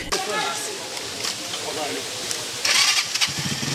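A motorcycle engine starts and revs in a rough, outdoor setting on steep hillside terrain, running steadily and fairly loud with a sharper burst near the end, while someone speaks over it.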